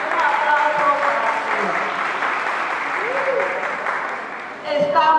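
Audience applause fills a church hall at an Apostol San Pedro gathering, steady clapping from a sizable crowd that dips briefly near the end before rising again, with voices over it.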